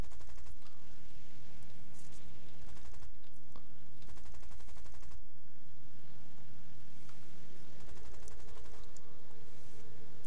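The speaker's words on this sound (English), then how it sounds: "all those tracer rounds are bouncing off the ground" Rapid, continuous machine-gun bursts from an aircraft firing tracer rounds in a video game rattle loudly over a steady engine drone, with short pauses between bursts.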